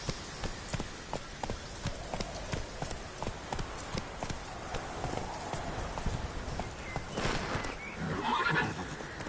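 Roach the horse in The Witcher 3 trotting with a rhythmic clip-clop of hooves, then letting out a whinny near the end, all fairly quiet and close.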